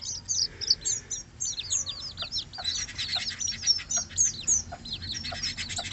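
Newborn chicks, offspring of a white rooster, peep rapidly and continuously in a high, shrill cluster of overlapping calls, close and fairly loud over a low background rumble.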